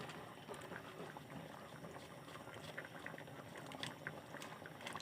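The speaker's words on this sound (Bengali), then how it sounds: "জলটা ফুটে গেছে" Water boiling in a pan with soybeans, a faint, continuous bubbling and gentle rolling churn, steady throughout with no voices.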